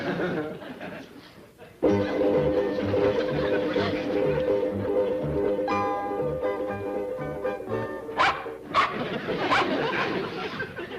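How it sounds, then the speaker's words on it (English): A small dog in a classic sitcom barks and whimpers in short yips over a steady music bed, close and fairly loud, with sharper outbursts near the end. "Mind your tongue, little dog."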